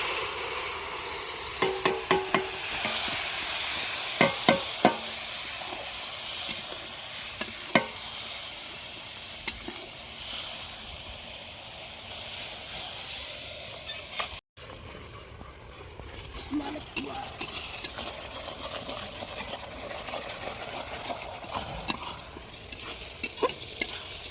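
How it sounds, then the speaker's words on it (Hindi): Village-style masala for fish curry sizzles steadily in a frying pan while being stirred, with repeated scraping clinks and a continuous frying hiss close by, without talking. "अब इसमें मसाला जो बनाए थे वो डालेंगे।"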